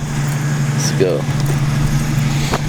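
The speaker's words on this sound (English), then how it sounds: "This car has literally zero gas. It's probably gonna run out right now while it's idling." A car with an almost empty fuel tank idles with a low, even hum, partly under a man's brief speech and some nearby handling noises.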